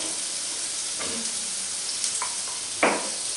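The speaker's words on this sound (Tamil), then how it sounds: "வெங்காயம் நல்லா வதங்கட்டும்" Onions sautéing in a pan for a village-style dinner, a constant close sizzle with a few spoon scrapes and stirring taps, no one talking.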